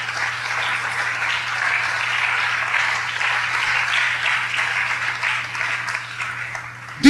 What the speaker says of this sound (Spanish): Dele un fuerte aplauso al Señor si se lo quiere dar.